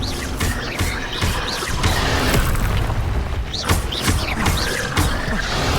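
The Incendio fire spell in Hogwarts Legacy goes off as a dense, continuous roar of booming fire and crackling bursts, loud and close, with several sharper impacts rising out of the rumble.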